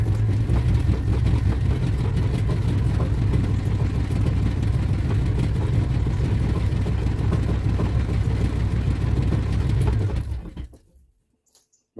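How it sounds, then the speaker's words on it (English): A spin bike generator with a hoverboard motor is pedalled lightly, giving a steady low mechanical hum and whir with rattly vibration. It runs evenly for about ten seconds, then stops abruptly into near silence. "I'm just going to give it a very light pedal for a minute and see how it goes."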